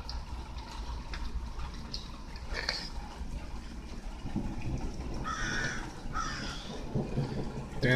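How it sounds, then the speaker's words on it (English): Crows caw a few times at moderate distance, short harsh calls standing out over a steady outdoor background hum with faint rustling. "Damn crows, I hate these damn crows"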